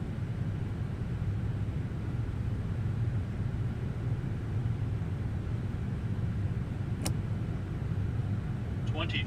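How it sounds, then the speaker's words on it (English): Boeing 787 engines in Microsoft Flight Simulator, settling toward idle under autothrottle: a steady, broad cabin drone with a low rumble, continuous and even, with a brief faint click near the end. "That's just our auto throttle coming to idle."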